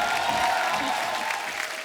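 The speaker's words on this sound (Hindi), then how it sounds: "आप सबकी जोरदार तालियों के बीच बुलाता हूँ" Studio audience applauding a women's cricket team, among them Harmanpreet Kaur and Shafali Verma, on a Hindi TV talk show: steady, dense clapping that holds at an even level throughout.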